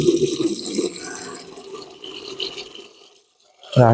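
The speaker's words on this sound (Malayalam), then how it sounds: "ഇതിനകത്തേക്ക് വെള്ളം പിടിച്ച് കാണിക്കാം" Water pours from a tap into a cracked plastic bucket, splashing loudly at first, then softening and trailing off into near silence before a sudden clatter at the end.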